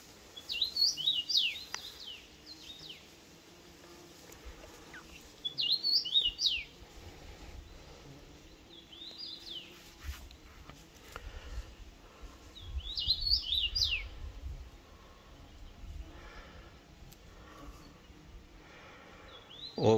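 Woodland birds chirp and sing in short bright bursts of tweets near a patch of berries and flowering fireweed, spaced over a quiet outdoor background with faint rustling and no talk.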